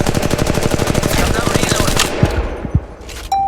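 Rapid automatic gunfire from the Apex Legends battle royale game rattles in a loud, fast burst for about two seconds, followed by a few scattered shots and a short electronic tone.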